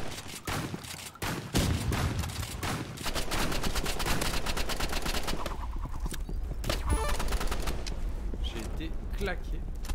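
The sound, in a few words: shotgun gunfire in Roblox Rivals video game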